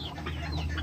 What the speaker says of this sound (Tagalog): Tapos itong isa nating alagang manok na free range.